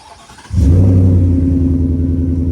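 A 2021-2023 Ford F-150 pickup with an MBRP dual rear exit exhaust cranks and fires up on a cold start, then settles into a loud, deep, rumbling exhaust idle.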